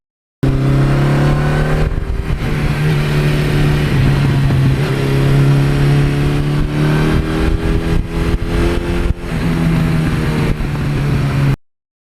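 Engine of a 1982 Suzuki GS1100E motorcycle revving hard with the throttle held wide open, a loud, close, steady roar whose pitch rises and falls through several rev sweeps and holds for about eleven seconds, with no talk.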